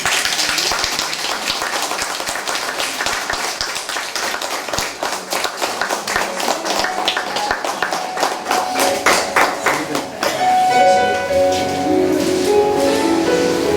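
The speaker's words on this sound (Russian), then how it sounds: "Друзья, аплодисменты." Audience applause at a Russian Family, Love and Fidelity Day celebration honoring the Bolotaev family, a burst of many hands clapping that builds and then trails off as music begins near the end.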